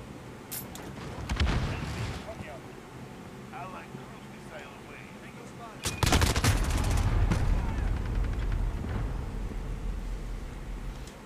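Call of Duty: Modern Warfare multiplayer gunfire erupts in two loud bursts of rapid shots, with quieter stretches of game noise between them.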